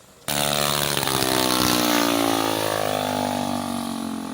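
Locally fabricated light aircraft with a propeller engine flying over a remote village in Imo State, Nigeria; a loud, steady buzzing engine drone that starts abruptly and holds close throughout.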